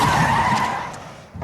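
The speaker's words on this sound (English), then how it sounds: "The bad drivers learn to do this maneuver by swinging out to the right, then cutting hard to the left and pulling the handbrake." A car whipping through a 180-degree handbrake spin on a driving-test course, a loud, close tire skid that holds steady and then fades out over about a second, with a brief noise at the end.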